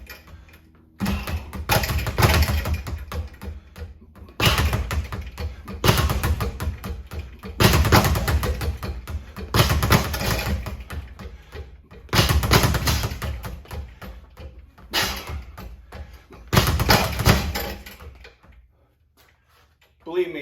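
Punches hitting boxing bags during jab and hook practice: clusters of heavy thuds in regular bursts separated by short pauses, with a voice talking at times.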